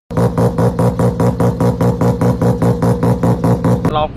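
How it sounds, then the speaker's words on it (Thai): A motorcycle engine with an abnormal, uneven-running exhaust idles with a rough, pulsing rhythm, each beat chugging unevenly, close and loud, ending abruptly. "มันแปลกๆเสียงท่อออกมาแปลกๆมันเดินแบบเดินไม่เรียบ"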